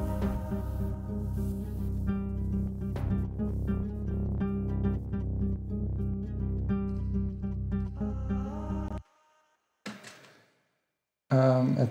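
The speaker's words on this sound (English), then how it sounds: "So I took the flamenco guitar and took it like it was before" A music track with a flamenco guitar mixed softly under a second, lower guitar, the layered guitars playing steadily and loud before cutting to near silence and then a brief return at the end.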